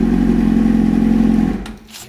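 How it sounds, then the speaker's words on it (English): Ford Crown Victoria DOHC engine idling with a loud, steady hum that cuts off near the end, leaving quieter shuffling sounds. "engine sounds amazing"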